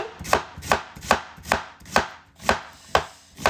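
Knife chopping onion on a board, eight evenly spaced sharp cuts close to the microphone with quiet gaps between, no voices.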